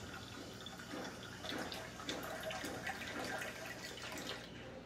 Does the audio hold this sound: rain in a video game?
no